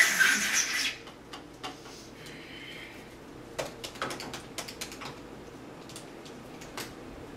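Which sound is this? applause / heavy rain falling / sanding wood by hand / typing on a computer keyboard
typing on a computer keyboard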